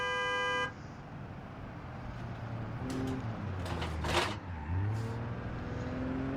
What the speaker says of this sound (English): Listen to that shift.